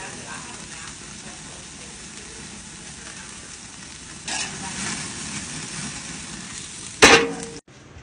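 Steak searing in a hot pan while being flipped and basted, a steady loud sizzle and crackle throughout, with a sharper hissing burst near the end before it briefly cuts off.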